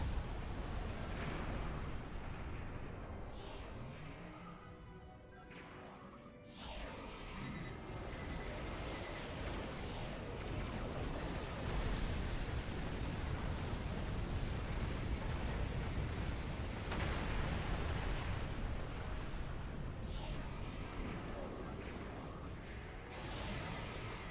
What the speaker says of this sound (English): Torpedoes away!